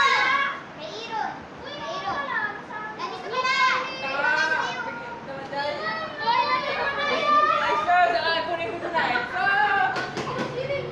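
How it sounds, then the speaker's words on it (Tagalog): Children play noisily indoors in a home while rain falls outside, with lively overlapping kid voices, shouts and chatter filling the room steadily throughout at close range. "Habang dito sa loob naman naglalaro yung mga bata."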